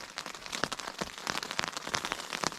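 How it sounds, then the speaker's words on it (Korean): Spring rain falling outdoors at a rainy backpacking campsite, a soft irregular patter of drops striking nearby surfaces, faint and steady with no voices. "드디어 비가 시작됐습니다."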